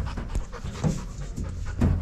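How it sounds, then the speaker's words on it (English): A puppy pants close by, rapid breathy huffs in a steady rhythm for about two seconds, with no talking. "He's just a puppy."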